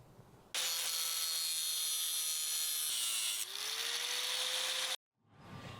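Metal being cut along a marked line with a power tool, a loud continuous high whine that shifts pitch midway, then stops abruptly.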